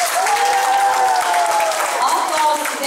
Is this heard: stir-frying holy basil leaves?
no